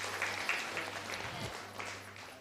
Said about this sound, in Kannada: ಅವ್ರಿಗೆ ವಂದನೆಗಳನ್ನು ಜೋರಾದ ಚಪ್ಪಾಳೆ ಅವ್ರಿಗಿರಲಿ